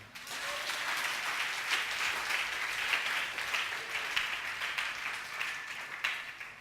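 A church congregation applauds during a sermon, giving steady, dense clapping that sounds somewhat distant and soft and continues throughout without speech.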